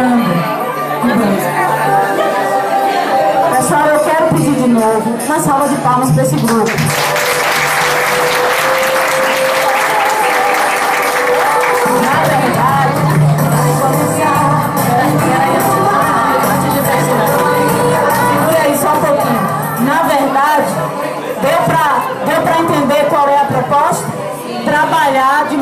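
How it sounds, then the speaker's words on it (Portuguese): A school Christmas event audience breaks into sustained applause as Santa Claus is welcomed in, dense clapping swelling midway with crowd chatter and voices mixed throughout. "Uma salva de palmas para esse"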